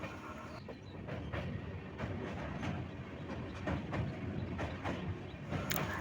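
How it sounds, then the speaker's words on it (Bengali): A moving train rolling into Bagdogra station in the Dooars region, with steady rumble of railcars and rhythmic clickety-clack of wheels over rail joints, sustained and close throughout without speech. "আমাদের ট্রেন এখন ঢুকে পড়েছে বাগডোগরা।"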